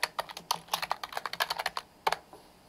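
Rapid typing on a computer keyboard, a quick run of light clicky keystrokes, close and distinct, pausing briefly before a final pair of taps.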